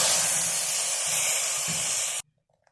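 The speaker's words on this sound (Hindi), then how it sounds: "बाकी जो हैं इंग्रेडिएंट्स उनको भी फ्राई करेंगे" Ingredients frying in a pan for sheer khurma, a Pakistani sweet vermicelli dessert, giving a loud, steady hiss and sizzle with faint low stirring thumps that continues for about two seconds and then cuts off abruptly into silence.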